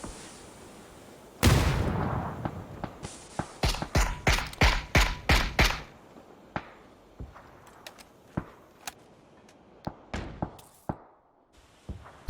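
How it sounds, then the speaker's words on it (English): Gunfire in PUBG during a pro scrim match, one big blast followed by a rapid string of sharp shots, then scattered single cracks from different distances. "Lots of bullets coming from lots of directions can only be a good thing"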